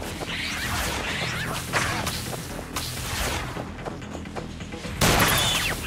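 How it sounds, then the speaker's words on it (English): Game character dashes about in Gigantic X using mobility greaves, with quick whooshes and swishes amid impacts and booming combat effects, ending in a louder burst. "Mobility greaves allow you to quickly dash around the battlefield"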